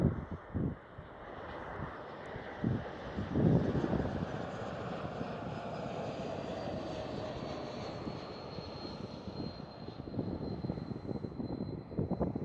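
An Air France Airbus A220 jet airliner at Amsterdam Schiphol, a steady broad engine roar that swells and holds across the whole stretch, loud and near, with a faint high whine drifting through it and no talk.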